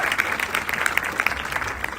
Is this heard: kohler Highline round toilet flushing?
no